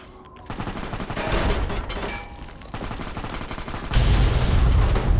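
Heavy gunfire in Fallout New Vegas, rapid bursts of automatic shots crackling in a ruined city, loud and close, easing briefly then returning harder with booming low impacts.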